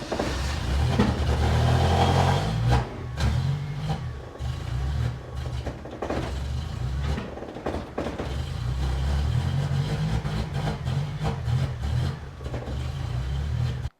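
A built engine in a 1979 Toyota Corolla idles steadily and close by, its low rumble continuous for the whole stretch with slight surges and dips in the running.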